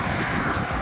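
A 2023 Nissan Z sports car engine heard from outside the car, a steady loud droning rumble with a broad, even tone and no talking over it.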